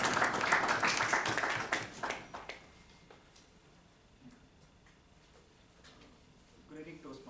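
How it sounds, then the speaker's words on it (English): A Toastmasters meeting audience claps for a speaker, brisk applause up front that thins out and fades within a few seconds, leaving quiet room noise with faint shuffling. "A big round of applause for Toastmaster Mental Pinto."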